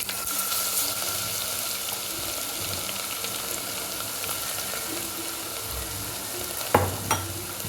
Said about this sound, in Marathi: मी यामध्ये आता लसूण टाकून देणार आहे वाटून घेतलेला